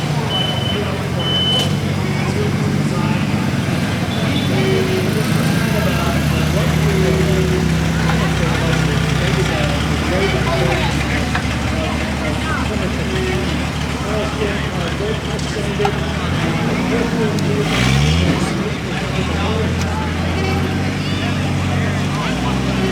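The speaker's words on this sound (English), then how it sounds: "You can hear why this is so different. This Chrysler has a turbine plane engine in it." A Chrysler turbine car's engine runs with a continuous whining, rushing roar, loud and close, its pitch shifting slightly as a voice talks over it.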